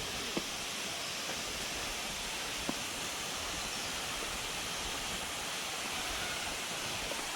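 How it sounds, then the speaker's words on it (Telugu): Small waterfalls spilling down from the hills in a forested hill area make a steady broadband rush of water. It is even and unbroken throughout, with only a couple of faint ticks. "చిన్న చిన్న వాటర్ ఫాల్స్ టైపు కొండల నుంచి వస్తుంది"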